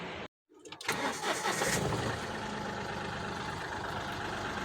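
A Mahindra TUV300 SUV engine starts after a brief crank and a short gap, surges, then settles into a steady idle close by, with no talk over it.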